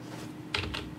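A few quick keystrokes clatter on a computer keyboard during command-line work, two crisp clicks standing out over a faint background hum.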